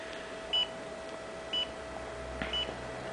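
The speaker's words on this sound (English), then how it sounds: "to start the test you press the red button in the middle, which is followed by some beeping" A Crowcon Laser Methane Mini detector gives three short electronic beeps about once a second over a quiet background hum, evenly spaced and fairly clear.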